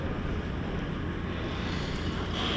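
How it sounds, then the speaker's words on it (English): Strong outdoor wind buffets the microphone at a catamaran build site, a steady loud broadband roar lasting throughout with no let-up and no voices. "it's really windy today."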